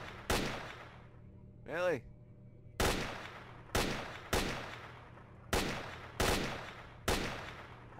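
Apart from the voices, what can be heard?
gunfire in video game S.T.A.L.K.E.R. Shadow of Chernobyl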